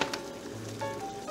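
Shrimp hitting melted butter in a hot pan give off a steady, close sizzle with soft crackling throughout, no talk over it.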